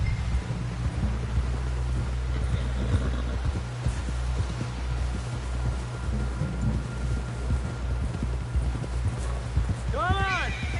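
Horse hooves clip-clop steadily beneath continuous game music and wind in Red Dead Redemption 2, with voices talking over the ride and a few sharp calls near the end.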